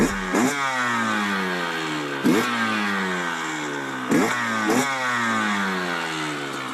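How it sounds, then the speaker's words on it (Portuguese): A two-stroke gasoline engine runs close by with a buzzy, steady drone, punctuated by several sharp revving surges that climb in pitch, each followed by a drop back to a falling whine. "Mas ainda há outros tipos de motores muito utilizados,"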